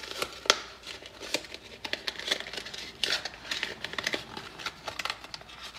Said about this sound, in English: Fold it inward in half again.